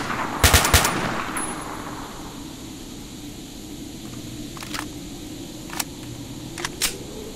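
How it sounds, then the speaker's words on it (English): Gunfire in STALKER: Shadow of Chernobyl, a sharp rapid burst of shots up front, then a few isolated single shots spaced out over a steady background ambience, no talking. "I'm shooting them."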